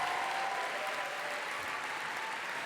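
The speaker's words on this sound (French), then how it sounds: "on peut les applaudir" An audience at the closing ceremony of a television series festival gives a dense, steady round of applause for a series team in the hall, sustained and even for the whole stretch.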